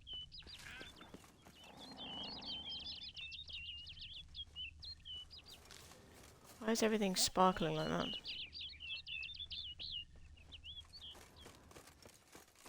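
Birds chirp and twitter through a forest scene in the game Witcher 3: Wild Hunt. Rapid high chirps run steadily, with a brief louder burst in the middle, under a voice.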